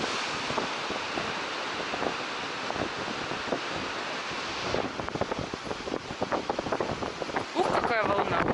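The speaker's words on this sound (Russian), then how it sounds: "Какая волна." Baltic Sea waves at Svetlogorsk break and wash ashore under steady wind buffeting the microphone, a continuous broadband roar with surges toward the end, while a voice speaks briefly.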